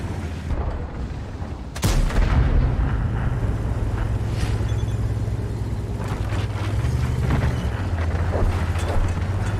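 Battle noise from a tank video game: a sharp, loud cannon shot cracks near the start, then a sustained low engine rumble runs on beneath scattered gunfire bursts and impacts throughout.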